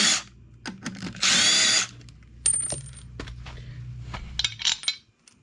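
A power tool removes clutch bolts on a Grizzly 550 ATV in a garage. It gives one loud, sustained whir of about half a second, then metallic clinks and rattles of loose parts.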